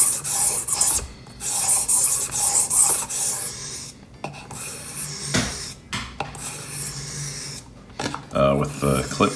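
A Northwoods Hawthorne jack knife's clip-point blade is stroked across a sharpening stone, giving repeated close scraping rasps with short pauses between passes.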